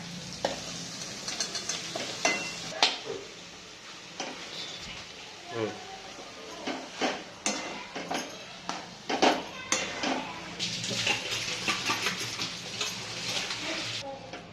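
Potato is tipped into a pan of tomato and other frying vegetables for vada pav filling, then stirred, with scrapes and taps of a spoon over a steady sizzle close by, and a voice talking at times.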